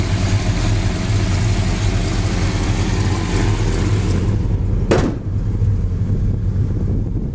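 A 1970 Dodge Super Bee's 383 V8 idles steadily and loud up close, a low even rumble that holds throughout, briefly interrupted by a short sharp knock near the five-second mark.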